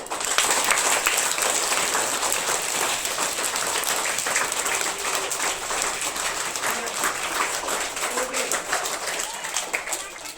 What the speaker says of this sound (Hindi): तो वंस अगेन एकदम जोर से ताली बजाना हेल्दी फूड के जैसा।